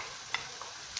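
Vegetables fry in butter in a pan with a dense, even sizzle, close and steady, broken by a couple of tiny pops or spoon taps.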